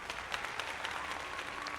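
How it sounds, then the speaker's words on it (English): Steady applause from an audience clapping for a person named Den, dense and continuous throughout with no voices on top. "can we get some claps for Den?"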